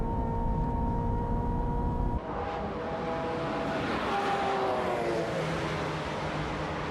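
A Ferrari 355 F1 chases a Lancer Evolution down the Fuji straightaway. A loud, sustained engine drone holds steady, shifts partway through, then keeps climbing in pitch at full throttle, with no talking.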